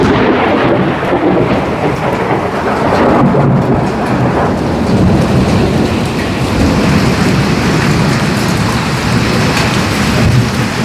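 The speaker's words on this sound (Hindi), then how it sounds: "बहुत तेज वाली बारिश लगना शुरू हो गई।" Heavy rain pours down in an Uttarakhand mountain village, a loud, dense continuous roar of drops hitting surfaces with low rumbling thunder underneath, steady throughout with no talking.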